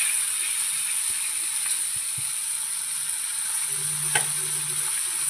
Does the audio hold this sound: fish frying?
yes